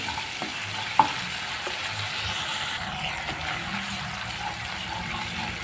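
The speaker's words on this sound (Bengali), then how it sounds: "তো হলুদ দিয়ে একটু নাড়াচাড়া করে নিলাম।" Pointed gourd fries in a pan as turmeric powder is stirred in, a soft steady sizzle with a sharp utensil tap near the start and faint scraping, fairly quiet and without talk.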